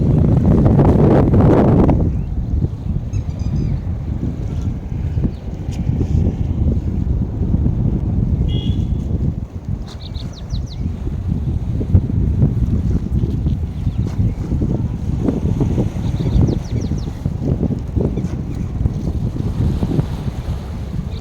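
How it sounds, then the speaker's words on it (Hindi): Water lapping and splashing against stone steps outdoors, a steady churning wash under heavy gusting wind buffeting the microphone, continuous and close throughout. "ये पानी देखो टकरा रहा है, उसकी आवाज़ है।"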